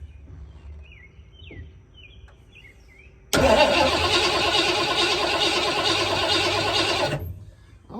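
A 1986 Ford Bronco, left sitting for 16 years, cranks over with a loud, steady churning whir for several seconds without catching, then stops; birds chirp faintly outdoors before it.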